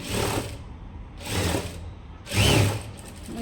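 A sewing machine stitches a blouse lining in three close, loud whirring runs, each about a second long, with brief pauses between them.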